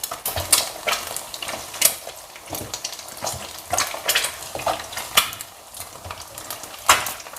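An egg fries in too much oil, the hot fat sizzling with frequent sharp pops and spits that burst irregularly at close range, with a few light utensil clinks and no talk.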